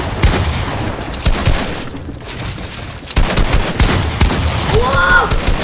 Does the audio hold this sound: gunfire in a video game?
yes